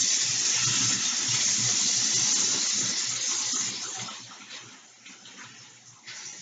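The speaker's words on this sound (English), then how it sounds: "So I'm going to wash my hands before I put them in." Hands washed under a running tap before handling contact lenses, a steady close rush of water that eases and softens toward the end, with no talk.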